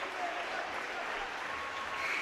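Home fans at a high school boys basketball game between Danville and Plainfield applauding and cheering for the seniors, a dense, continuous wash of clapping filling the gym.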